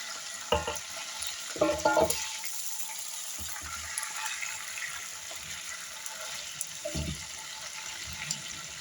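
Chicken pieces for saç kavurma sizzle and crackle steadily in a hot pan, with occasional clinks and scrapes as the pieces are stirred and turned.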